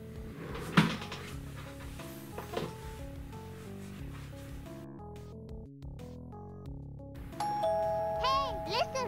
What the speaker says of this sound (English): I should really change that doorbell